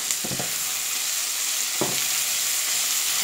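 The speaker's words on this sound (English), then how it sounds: "I'm going to fry them together." Grated potato and sweet potato fry in a pan with a steady, loud sizzle, broken twice by brief scraping stirs, with no voices.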